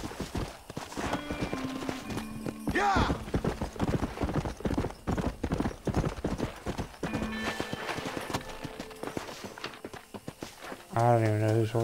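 Horse hooves clip-clop in steady rhythm in the Red Dead Redemption video game, close and fairly loud, with a brief whinny and someone talking over the gameplay.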